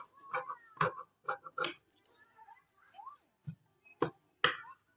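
Sharp scissor snips cutting fabric for stitching a palazzo pant, several close, distinct clicks spaced irregularly with quieter rustling of cloth between them.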